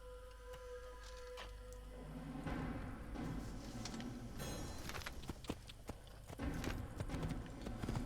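Horse hooves from Assassin's Creed clip-clop in a steady walking rhythm, close and moderately loud, over low ambient game background, with the gait becoming more pronounced partway through.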